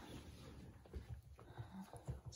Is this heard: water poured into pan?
no